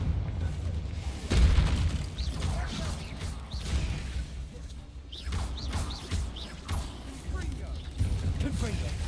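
Spell blasts in the Hogwarts Legacy video game: a loud boom near the start and further bursts and crackles around the midpoint, set against a busy game soundscape with voices talking.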